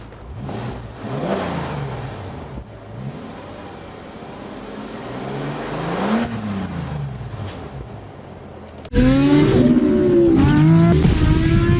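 A Bentley GT exhaust roars through several rising and falling revs, then breaks into a louder, closer burst of aggressive revving at the end.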